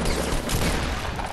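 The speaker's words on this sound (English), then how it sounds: "Minigun." A minigun fires in Fortnite Battle Royale on PS4: a loud, continuous burst of rapid-fire shots blending into a dense roar, with no talk.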